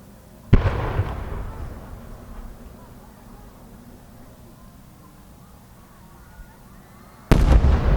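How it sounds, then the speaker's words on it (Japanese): An 8-inch Crystal Opal shell from Komatsu Enka of Akita bursts at an outdoor fireworks display, with a sharp loud boom followed by a long crackling decay and a second heavy burst near the end. "創造花火8号玉クリスタルオパール"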